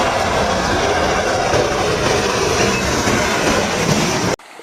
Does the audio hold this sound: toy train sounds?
yes